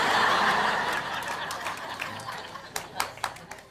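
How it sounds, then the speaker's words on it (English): A studio audience at a comedy finance special bursts into loud laughter, which fades into a few scattered, rhythmic claps toward the end. "a lot of people were clapping along with me"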